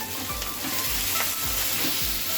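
Shrimp paste with dried red chillies sizzles in a pan for prawn bharta while a spatula stirs it, a constant close fry punctuated by soft rhythmic scraping strokes, no voices.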